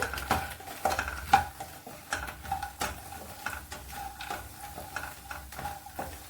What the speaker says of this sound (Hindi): क्रिस्पी होने तक मखाना को हम तलेंगे